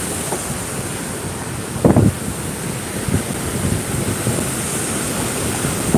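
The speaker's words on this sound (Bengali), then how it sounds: "এই হচ্ছে দামোদরের গর্জন" Damodar river in monsoon flood at Durgapur Barrage, heavy rain and wind: a steady broad roar of rushing water under gusty wind buffeting the microphone, with a brief louder burst near the middle.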